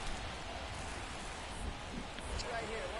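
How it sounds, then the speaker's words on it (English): Steady rain pours over a baseball stadium during a game, a dense continuous hiss filling the whole stretch with a few faint sharper patters, no voices heard. "This rain is not letting up."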